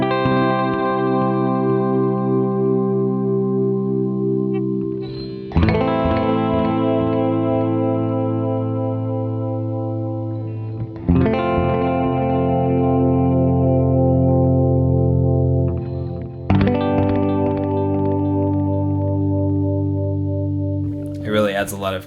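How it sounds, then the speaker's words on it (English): A Boss DD-20 Giga Delay pedal in modulate mode gives chorus-like echoes to sustained electric guitar chords, struck about every five seconds and left ringing in thick, shimmering, wavering repeats. "it introduces kind of a chorusy effect to the echoes"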